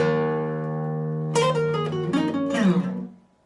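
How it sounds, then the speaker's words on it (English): An electric guitar plays a short phrase, a ringing chord letting sustain and fade before a quick run of plucked notes and slides, close and clear, then decaying to quiet. "Part 1 of verse 2 played in real speed."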